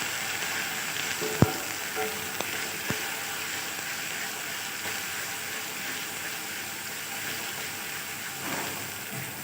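Ginger and garlic frying in a pan with chopped onion for black pepper chicken give off a steady, close sizzle, broken by a few sharp clicks and pops from stirring, with no talking.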